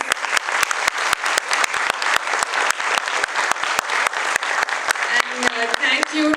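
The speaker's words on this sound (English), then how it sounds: "Can we please have a round of applause?" Audience applauding at the close of a live talk session on book cover design, a steady dense patter of many hands fairly close, with a few faint voices emerging near the end.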